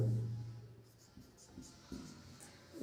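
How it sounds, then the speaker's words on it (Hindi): Pen or chalk scratching out notes by hand during a history lecture, soft irregular strokes in short bursts against a quiet room. "थोड़ा बीच में लिख लेते"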